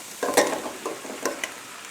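Corn kernels hit a hot pot of softened onion, sizzling steadily while a utensil scrapes and stirs in several quick close strokes.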